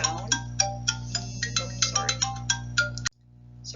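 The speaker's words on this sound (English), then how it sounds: "Oh, sorry about that. I forgot to put my phone on vibrate." A phone ringtone plays as a repeating chime, about a dozen evenly spaced bright tones over a steady background hum, then cuts off abruptly near the end.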